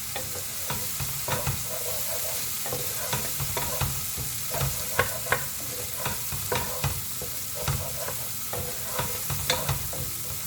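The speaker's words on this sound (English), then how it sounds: "the garlic is well sauteed and the raw smell goes off" Garlic sautéing in a frying pan with noodles and fresh vegetables, a steady sizzle and crackle broken by the repeated scrape and clatter of a spatula stirring close by, with no voices.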